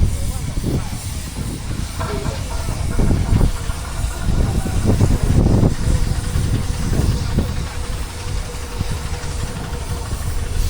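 A single-cylinder Garrett steam engine at a spring steam fair hisses steadily and loudly, with chuffing and mechanical knocks beneath, while people talk nearby.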